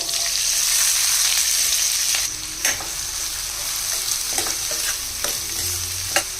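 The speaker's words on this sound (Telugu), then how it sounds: "ఇదిగోండి చిన్నగా తరిగిన నాలుగు ఉల్లిపాయలు నాలుగైదు పచ్చిమిరపకాయలు వేయాలండి" Chopped onions, green chillies and curry leaves sizzle steadily in hot oil in a pan, with occasional stirring scrapes and clicks from a spoon, close and continuous.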